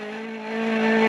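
1800cc turbocharged rally car engine with its restrictor removed, racing hard: a brief, strong, rising engine note that climbs in pitch, then cuts off abruptly.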